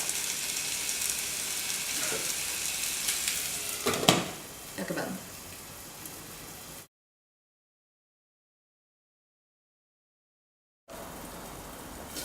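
Pumpkin pieces coated in ghee and spices cook in a covered pan for a pumpkin and spinach curry, giving a steady, moderate sizzle and frying hiss with a couple of brief stirring or lid sounds, then a gap of silence before the sizzle resumes.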